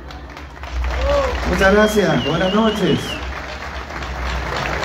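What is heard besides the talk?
applause for someone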